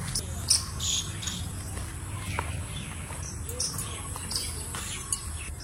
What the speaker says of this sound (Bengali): নিরিবিলি নিস্তব্ধতা, পাখির ডাক।